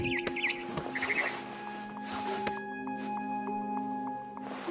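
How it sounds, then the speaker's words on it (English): Barn swallow chirps outside a window in the game What Remains of Edith Finch: a few brief, high twittering calls near the start, over a steady tonal musical drone with soft ambient texture throughout. "Then I heard chirping outside my window. It was a barn swallow going back to her nest."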